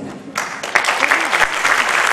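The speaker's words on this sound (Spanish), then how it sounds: "Qué lindo su aplauso." Audience applause after a performance at a live concert in Samacá, a short burst of dense clapping rising quickly and staying loud throughout.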